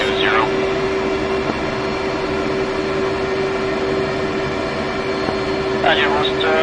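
Steady jet engine whine and rumble from a military aircraft taxiing toward runway 20 in the DCS flight simulator, a constant loud drone with a high tonal hum throughout, and brief chirping sounds near the start and end.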